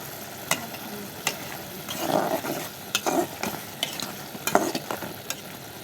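Shrimp fry in a pan for a bottle gourd and shrimp curry, a soft sizzle under repeated sharp scrapes and clinks of a spatula stirring at an irregular pace.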